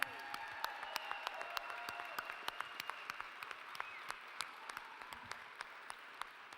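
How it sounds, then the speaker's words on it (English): Audience applause at an art auction fundraiser in Kansas City, a steady wash of many hands clapping with distinct sharp claps popping out, moderately distant and sustained throughout. "Let's give a round of applause for Marjay, Madison, and Noah tonight,"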